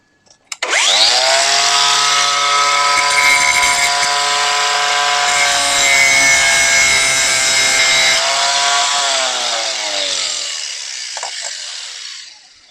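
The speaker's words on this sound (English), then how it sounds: "I'm going to grind off the face of it so the flared end is gone." An angle grinder grinds the flared face off a rivet on a Yamaha V Star/Virago XVS250 motorcycle drive chain, a loud continuous metallic whine with a harsh rasping edge that holds steady for about ten seconds, then winds down as the disc spins to a stop.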